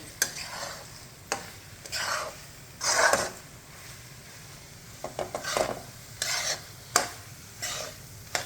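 Onion frying in oil is stirred in a pan with irregular scraping strokes and spoon knocks over a faint background sizzle, close by and with no talking.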